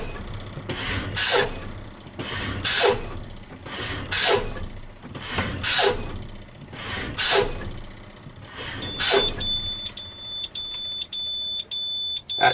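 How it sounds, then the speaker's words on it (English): A truck's service brake is pumped repeatedly, each press letting out a loud hissing burst of air about every one and a half seconds, until a steady low-air warning buzzer starts and drones on alone. "I'm going to pump my service brake until I hear my buzzard and I see my light"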